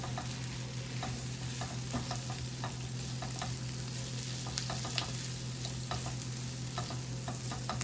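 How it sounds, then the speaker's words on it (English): Vegetables for a vegetarian jerk pasta sautéing over medium heat in a heavy-duty sauté pan with a thick base, a constant close sizzle with frequent light scrapes and taps of stirring. "Crank up the heat to medium, and really start getting this veg work going."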